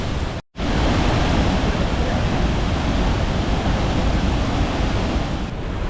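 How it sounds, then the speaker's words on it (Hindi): A rushing waterfall in Bali roars as a dense, loud, continuous wall of water noise close by. A brief dropout occurs near the start. "पानी के शोर की वजह से शायद आपको मेरी आवाज़ नहीं आ रही है।"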